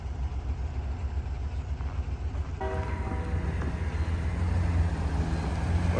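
A Norfolk Southern train approaches at a railroad crossing, a low rumble under outdoor noise that steadily swells and gains a brighter metallic edge as it nears, with no voices.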